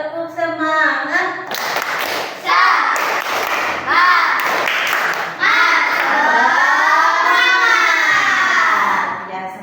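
A class of schoolchildren performs a rhythmic clapping chant, tepuk semangat, with bursts of claps and thumps mixed with children's chanting voices and an adult voice leading, loud and close in a classroom.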